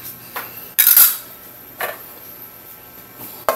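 Pork stock and red chili being added to a cooking pan, with a few metal clinks and knocks of a utensil against the pan and a brief splashing rush.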